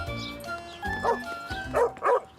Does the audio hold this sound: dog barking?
yes